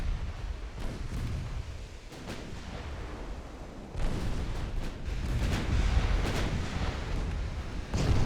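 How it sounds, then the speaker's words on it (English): Shells and propellant cook off aboard a sinking warship in the naval game Ultimate Admiral Dreadnoughts, heard as a rolling series of deep, muffled booms and rumbles that swell louder toward the end, with no voices. "As shells and propellants detonate"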